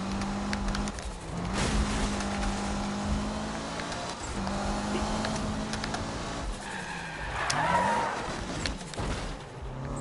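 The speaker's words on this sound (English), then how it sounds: "That's drifting." Game engine roar and tire squeal as a car drifts in Need for Speed 2015, a sustained loud engine drone with screeching skid tones, plus faint keyboard tapping from the player.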